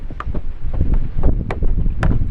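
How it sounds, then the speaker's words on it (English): Strong gusty wind of about 20 miles an hour buffets the microphone while kayaking on a spring-fed mill pond, a loud rumbling roar with a few brief splashy ticks. "The wind is blowing pretty good. It's probably blowing about 20 miles an hour at least, maybe more."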